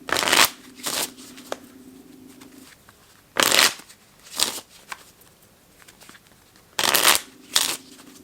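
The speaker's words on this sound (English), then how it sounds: "We'll put the Seven of Hearts back in the deck and we'll shuffle." Playing cards are shuffled in several quick riffling bursts, close and crisp, separated by short pauses of near silence.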